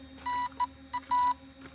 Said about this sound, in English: I can hear a beep code right now.